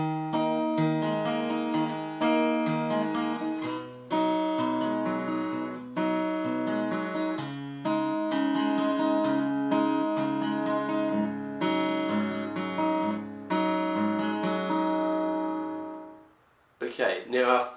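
Acoustic guitar fingerpicking pattern, with bass notes and upper strings plucked in a repeating rolling rhythm, clear and close, then an abrupt cut with a brief bump of handling noise at the end.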